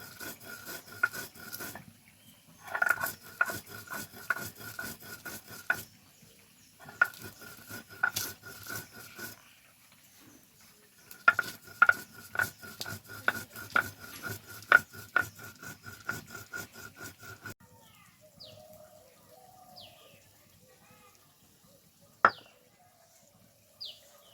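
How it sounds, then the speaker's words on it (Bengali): Fried spices are ground by hand on a grinding stone, producing rhythmic rasping scrapes in quick repeated strokes, grouped in bursts separated by short pauses, close and fairly quiet. "এবার এই ভাজা মশলাটাকে বেটে নেবো আমি এখানে।"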